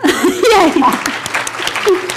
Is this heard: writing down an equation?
no